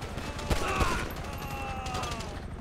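Gunfire in Grand Theft Auto 5 during a chaotic street crossfire, two sharp loud shots close together early on, then scattered fainter pops over a low game background.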